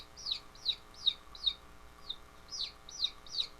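An incoming-call ringtone that mimics a small bird chirps about eight times at a steady quick rhythm, light and fairly faint over quiet background.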